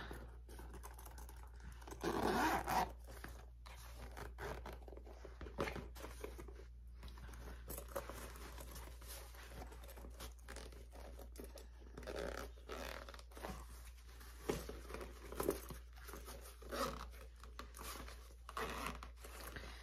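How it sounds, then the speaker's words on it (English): Zipper on a handmade crossbody bag being worked open at close range, a series of short rasping bursts scattered among rustling and handling noises, with no talking. "And now I'm going to unzip this."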